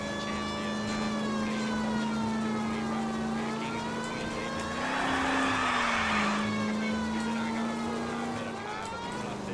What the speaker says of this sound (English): It's siren time.